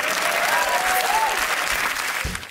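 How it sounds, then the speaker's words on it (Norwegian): Loud, sustained applause from a studio audience on a Norwegian TV show, a dense continuous wall of clapping with a few faint voices, tapering off near the end. "Stor applaus til jentene"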